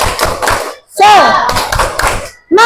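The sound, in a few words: class doing the 'tepuk semangat' clapping chant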